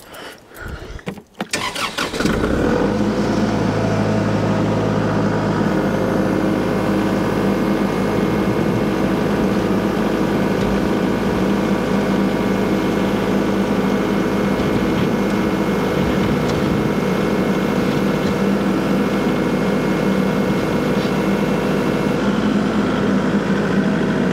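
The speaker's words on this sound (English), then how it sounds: "Back up on the tractor." A farm tractor engine starts up after a brief rattle and then runs at a steady, loud idle, a continuous low rumble with an even drone that carries on alone to the end.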